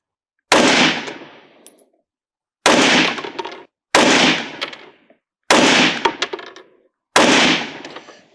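Five loud, close pistol shots from a Springfield Echelon 4.5F Comp firing Norma NXD 65 grain rounds at an outdoor range, each a sharp crack with a short ringing decay, spaced about a second apart.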